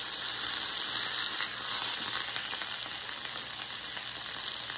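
Artichoke and spinach stuffed chicken browns in a hot skillet with a steady, bright, close sizzle of frying fat that holds at an even level throughout, with no talking.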